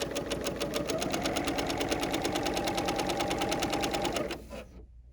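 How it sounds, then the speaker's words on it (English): A Bernina L 850 sewing machine stitches a double rolled hem on a scarf around the last corner, a fast, even, close mechanical chatter running without talk for about four seconds, then stopping abruptly. "As we're going around the corner, for the last corner, we're just gonna sew off"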